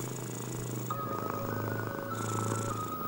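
A cat purrs in Resident Evil 4 Remake, a steady close rumbling purr running throughout with soft game music and ambient tones layered above it.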